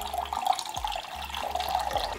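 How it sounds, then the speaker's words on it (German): Cold water pours steadily from a tap or jug into a vessel for spiced iced tea, making a continuous splashing, gurgling stream at close range with no talk. "Und dann gieße ich das auch wieder mit Wasser auf,"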